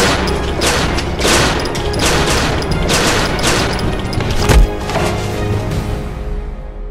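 Heavy gunfire fills a shootout in a short crime film, a dense, loud fusillade of overlapping shots with a sharp boom near the end, no talk over it.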